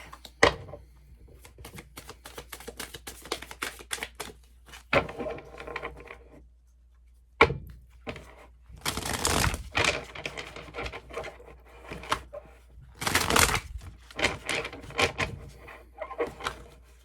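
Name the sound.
shuffling a deck of cards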